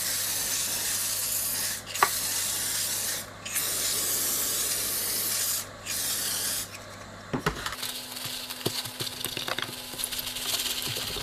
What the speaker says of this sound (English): Just spray on some label remover to get rid of this residue.